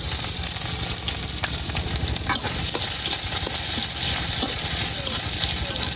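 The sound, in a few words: chopped onion and garlic frying in oil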